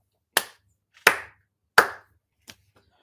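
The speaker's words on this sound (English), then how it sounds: "I just do a bit of a clap to it" Hand claps used to sync picture and sound before a live-stream build of the LEGO Adidas sneaker set 10282: three sharp, close claps evenly spaced about a second apart, then a softer fourth, with no talking.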